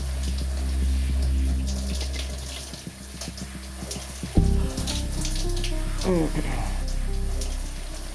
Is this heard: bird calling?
no